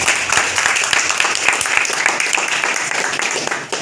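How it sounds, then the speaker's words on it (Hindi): A room full of people at a business meeting claps loudly for first-time attendees, a busy, continuous patter of many hands with sharper individual claps standing out, sustained for several seconds before tapering off. "इन लोगों के लिए एक जोरदार ताली बजा दीजिए।"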